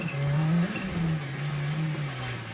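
A Citroen Xsara World Rally car engine in Assetto Corsa Rally revs and holds a droning, buzzy note that rises, dips and settles again, loud and continuous with no talking.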